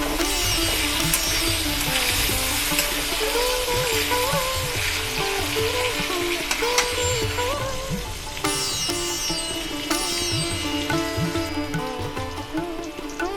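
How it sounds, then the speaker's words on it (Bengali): Potatoes frying in oil with turmeric and salt give a steady, close sizzle that runs through the whole stretch beneath prominent background music. "হলুদ নুন দিয়ে ভেজে নেব আলুটা।"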